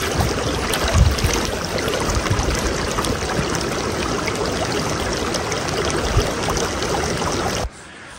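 Water running and splashing while washing for wudu (ritual ablution) outdoors in Kashmir: a steady, close trickling and gushing stream with small splashes, continuous until it cuts off abruptly near the end, with no talking.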